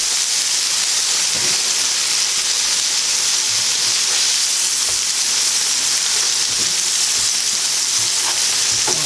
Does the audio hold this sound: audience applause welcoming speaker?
no